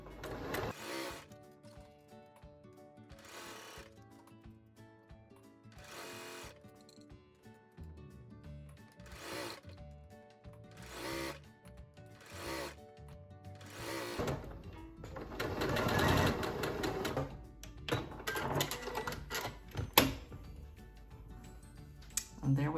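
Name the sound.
sewing machine sewing a sleeve seam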